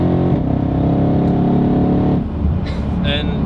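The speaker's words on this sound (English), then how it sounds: "and then the turbos just kick in" A tuned 900-horsepower Mercedes E63 AMG wagon accelerates hard from inside the cabin, its deep engine roar building loudly as the turbos come on, then dropping off as voices talk over it.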